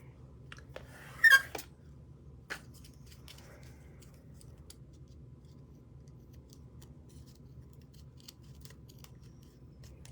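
Scissors trim the edge of a folded paper card, a few close, crisp snips clustered in quick succession, then a single later cut against a quiet, low room hum.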